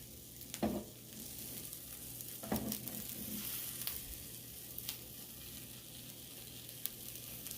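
Buttered Reuben sandwiches fry in a pan with a soft, steady sizzle, broken by a few faint clinks and scrapes of a utensil, with no talking.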